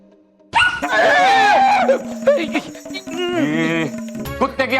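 A person imitates a dog, producing a run of yelping, whining barks close and loud, mixed with voiced, speech-like sounds and strongly pitched tones amid a TV drama scene.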